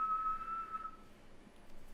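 A person whistles a steady, sustained high note for about a second before it fades out, with quieter murmuring and background noise continuing beneath.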